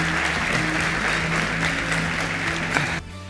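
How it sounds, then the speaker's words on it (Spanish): Audience applause for Roque Sevilla at a live MBA show, loud dense clapping over a low music bed, cutting off abruptly near the end. "Un gran aplauso a Roque Sevilla"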